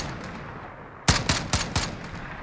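Four sharp MK 14 EBR rifle shots fired from a prone position in Call of Duty Modern Warfare, loud and close, in a quick semi-automatic rhythm after a second of quiet ambience.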